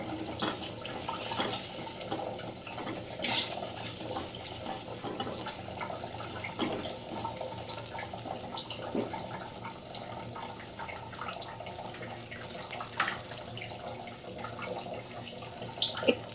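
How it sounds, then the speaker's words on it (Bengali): Water falling into a bucket set beneath a flow indoors, a steady, moderately loud splashing and pattering that runs unbroken, with occasional small knocks nearby. "এখানে একটা বালতি বসিয়ে দিয়েছি জলটা পড়ছে ওই জন্য একটুখানি আওয়াজ হচ্ছে"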